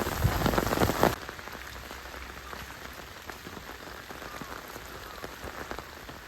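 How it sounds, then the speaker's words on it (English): Hail and rain pelt the ground outdoors in rural France, a dense, steady crackling patter that is louder and harder for the first second, then settles into a constant even drumming with no voices. "Rain has turned to hail."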